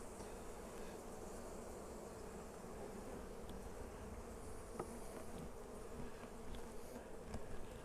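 Honeybees buzz from an open hive box full of bees, a dense, steady close-up hum that stays even throughout with no talking.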